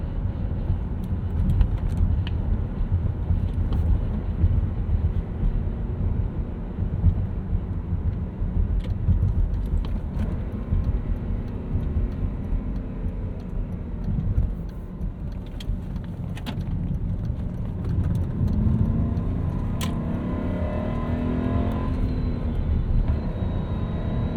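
A 1996 BMW 735i with a 5-speed manual cruises at 70 mph near 3,000 RPM, a steady low engine drone under broadband road and wind roar, continuous and loud inside the cabin.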